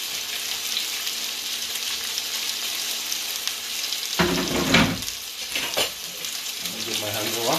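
Chicken sizzles in a hot pan while being stir-fried for chow mein, a steady close hiss throughout, broken midway by a few clattering stirs and scrapes of the utensil against the pan.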